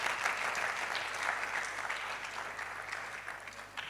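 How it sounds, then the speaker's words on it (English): Steady applause from an audience at a public lecture of physicians and surgeons, continuous dense clapping heard at a moderate distance throughout. "How will you clap for that?"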